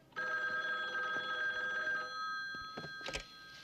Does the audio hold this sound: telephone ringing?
yes